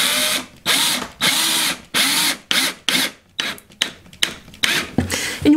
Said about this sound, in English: Now we're gonna take a drywall screw and attach our plug